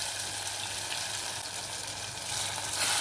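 Boiled taro pieces fry in oil with tomato for a Telangana-style pulusu, giving a steady close bright sizzle that swells slightly toward the end.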